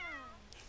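A cat in The Sims 4 lets out a single short, falling meow, close and fairly quiet, followed by a faint brief rustle.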